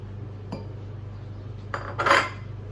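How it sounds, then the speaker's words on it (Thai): Boiled tuna tossed with vegetables in a bowl, a few metal clinks and one louder scrape and clatter of cutlery against the dish, close and otherwise quiet. "เฮาก็คลุกเข้าให้เข้ากันค่ะ"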